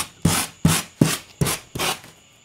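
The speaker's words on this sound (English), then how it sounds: "I also have this brush over here that I use to scrape off rust from tools. This one is pretty intense because when you go, look how it takes off pieces" A stiff rust-removal brush scrapes across a Halloween tombstone prop in five close, evenly spaced rasping strokes, each a short, coarse scrub that ends abruptly.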